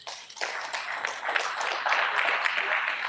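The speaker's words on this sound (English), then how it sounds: "Give them a round of applause." Audience applause at a Rainbow PUSH Coalition gathering, a dense steady wash of many hands clapping that swells after a brief quiet start and holds loud to the end.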